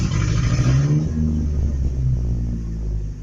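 A pickup truck's engine idles roughly and unevenly despite a new fuel filter, a low steady rumble with faltering pulses, close and loud and alone.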